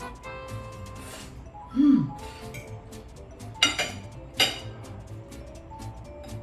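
A fork twirling spaghetti alle vongole with clams against a plate gives a few sharp, close clinks, one soft scrape followed by two bright metallic taps, with quiet room sound between them.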